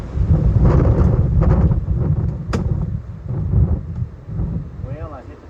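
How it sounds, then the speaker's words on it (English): Strong hurricane-force wind on a golf course buffeting the microphone in heavy low rumbling gusts, loud and continuous, with someone talking over it. "I'm only doing this one time in this wind."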